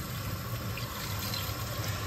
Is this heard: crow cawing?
no